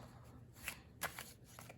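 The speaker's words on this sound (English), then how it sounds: "We can do some overhand shuffles." Playing cards are overhand shuffled by hand in a few soft, quick riffling bursts, close and quiet, with brief pauses between them.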